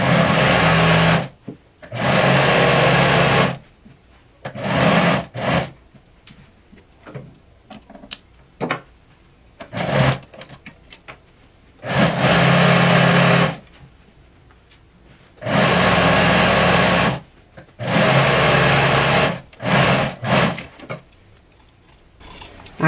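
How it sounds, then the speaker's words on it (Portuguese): A home sewing machine stitching a skirt runs in several loud, steady bursts of a few seconds each, separated by quieter pauses with light handling noises. "Agora eu vou dando uma tensionadazinha nos dois tecidos para unir bem. E estou costurando, olha."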